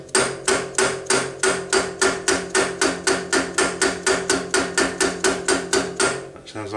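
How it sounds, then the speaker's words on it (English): Repeated metal hammer strikes tapping a bearing into place during a Cormack ZX7045 mill head strip, about twenty evenly spaced ringing blows in a steady rhythm, close and loud, with no talking. "It's just the weight of the hammer dropping on this."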